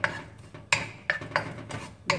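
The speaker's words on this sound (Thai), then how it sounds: "คั่วให้กระเทียมเขาหอมกันเนาะ" Garlic stir-frying in a little oil in a pan while a utensil scrapes and clanks against the metal in uneven strokes, with a steady low sizzle underneath.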